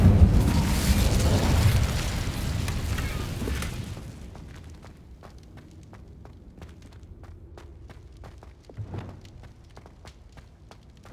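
Incendio fire spell cast in the video game Hogwarts Legacy, a loud whooshing, roaring burst of flame lasting about four seconds, then fading to quiet footsteps and small crackles.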